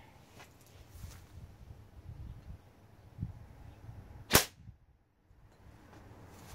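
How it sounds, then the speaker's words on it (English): A single sharp gunshot crack from a gun fitted with new compression modifications during a test firing, loud and close, standing alone against a faint ambient background. "here's the test firing phase. Let's see how well these new compression mods work."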